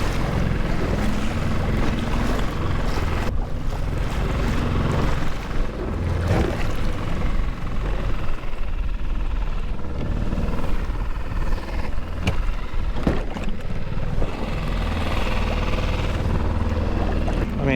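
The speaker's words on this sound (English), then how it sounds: "it's a really windy day" Strong wind buffets the microphone over open water near a small Ascend 133x boat with a Mercury 6hp outboard, a loud constant roar with gusty bursts and lapping waves.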